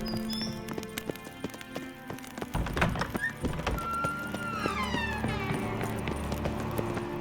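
Hooves clip-clop at a gallop amid busy game sounds in The Witcher 3: Wild Hunt, with a brief thud and a horse whinny rising over the steady rhythmic pounding.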